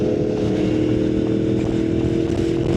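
A motorcycle on the road gives a loud, constant engine drone with steady rumble and wind noise throughout, recorded close on the rider.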